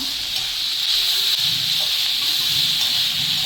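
Onions sautéing in a pan for a brinjal chutney, with tomatoes just added, giving a steady, close, even hiss of sizzling that runs unbroken throughout with no talking.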